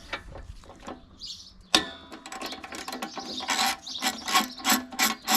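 A ratchet spins on a 13mm bolt on a Briggs & Stratton Quattro mower engine, a close rapid clicking that starts quietly, then grows louder and busier after a sharp knock partway through.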